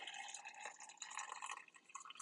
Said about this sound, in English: So now I am going to add the hot water.